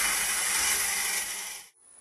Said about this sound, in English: We're going to grab hold of the drill chuck like so, and we're going to drill a hole that's about 2 inches deep